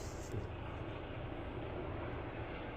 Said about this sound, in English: There's two helicopters that are over his heads.